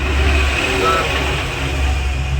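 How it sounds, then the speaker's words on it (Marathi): A motor vehicle passes close in front on a road, and its loud, steady engine rumble fills the whole stretch and drowns out other sound. "गाडी आली समोर त्याच्यामुळे आवाज येत नाही मला"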